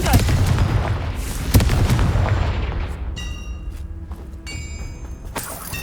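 A Confringo spell blast in Hogwarts Legacy, heard as a loud booming explosion with a sharp impact and a decaying rumble, then scattered game effects and a brief spoken word.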